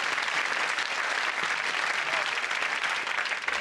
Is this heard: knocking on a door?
no